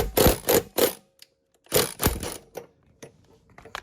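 Bursts from an impact wrench working a bolt loose on an old Craftsman lawn mower: three sharp hammering rattles, a pause, then two more bursts trailing into scattered clicks and tool handling, close and loud with no talk.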